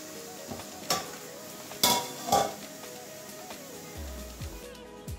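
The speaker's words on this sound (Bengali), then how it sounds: "তো এবারে নামিয়ে একটা বাটির মধ্যে ঢেলে দেখাচ্ছি।" Egg curry with potato and pointed gourd is served from the pan into a bowl: a few sharp metallic clinks and scrapes of a utensil over a quiet background, with no talk.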